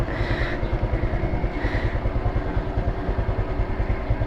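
Motorcycle engine idling close by after a ride, a steady low rhythmic chug with a faint clatter, running alone without talk.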